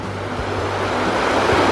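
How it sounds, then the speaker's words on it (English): Water of a stream and river flowing behind a bed and breakfast makes a steady, loud broadband rush with no pauses, close to the listener and with no voices over it. "This is part of the stream and the river that flows behind our bed and breakfast."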